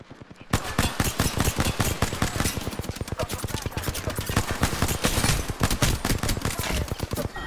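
Rapid, continuous volley of loud P2020 pistol shots fired in Apex Legends, the sharp cracks tightly spaced for several seconds after a brief quiet start.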